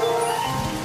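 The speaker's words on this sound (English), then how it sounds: "A tropical downpour in a working-class neighborhood on the outskirts of Hanoi." Tropical downpour in a working-class neighborhood on the outskirts of Hanoi, a brief burst of dense hissing rain on surfaces, steady and close.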